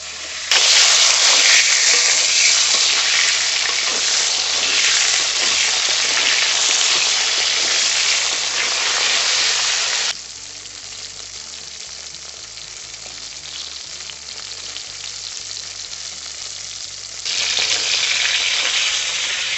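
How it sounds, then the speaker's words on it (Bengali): Pointed gourd (potol) pieces frying with a little salt in a pan give a loud, steady sizzle throughout, easing slightly in the middle and rising again near the end, with no talk. "সামান্য একটু নুন দিয়ে পটলগুলোকে আমরা ভালো করে ভেজে নেব।"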